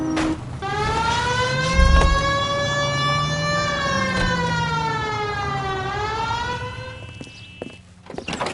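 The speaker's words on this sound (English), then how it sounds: "Hit the siren." A police siren from a video game set in Los Angeles wails continuously, its pitch sweeping slowly up and down, loud and close, with an engine rumble underneath.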